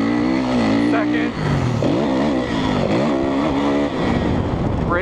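A motocross dirt bike revs loud and close, accelerating through rising engine sweeps and gear shifts, with a voice talking over it.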